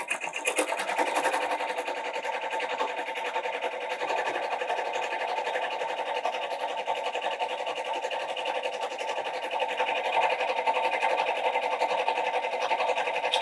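An embroidery machine stitches a wool felt coffee sleeve, a steady, close mechanical whir with a fast needle rhythm running unbroken throughout.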